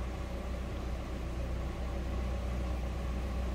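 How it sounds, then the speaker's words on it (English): A stock 1995 Mazda MX-5 Miata idling with its factory exhaust, a low steady engine hum with even background noise and no revving, heard alone. "No crazy exhaust, sounds like a stock 95"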